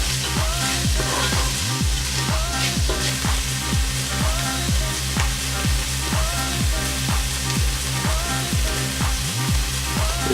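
Sweet and sour crab with chopped spring onions being stirred and fried in a pan, a steady loud sizzle with continual scraping strokes of the utensil.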